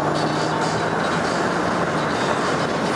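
A 2013 Hyundai Genesis Coupe accelerates on the road from a cruise near 45 mph, its engine and road noise forming a steady, loud broadband roar that holds throughout.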